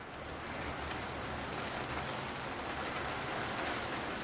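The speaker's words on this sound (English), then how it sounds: "Well, no sooner did I speak, it started to rain" Steady rain hitting windows as a shower begins, a continuous soft hiss of drops heard from indoors, even and unbroken with no talking.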